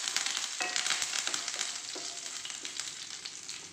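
Green chilies and curry leaves sizzle in hot oil, a dense, bright crackling hiss with sharp pops and spits, steady and close throughout.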